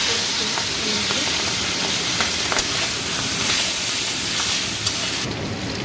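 Hot oil sizzles steadily while fish fries, giving a loud, dense, continuous hiss with small crackles throughout.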